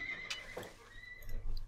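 Horse neigh from the Age of Empires II real-time strategy game, a single short whinny under game ambience alongside a brief clip-clop, near and moderately loud.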